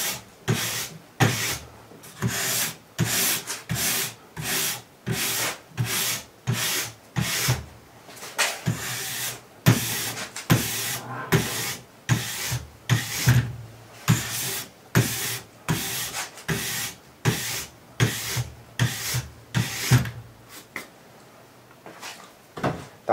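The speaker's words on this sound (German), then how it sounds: "Danach muss die Struktur des Skis wieder freigelegt werden, eben mit einer solchen Kupferbürste." Copper brush scrubbing the base of a freshly waxed ski front to back, in a long run of rhythmic, rasping strokes, roughly one per second, loud and close, with nobody talking.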